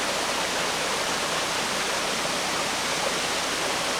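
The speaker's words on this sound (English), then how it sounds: "we decided today to come down and get a closer look at this waterfall for the very first time" A waterfall on the western shore near Sooke, Vancouver Island, roars as a dense, steady rush of water, loud and close, with no talk.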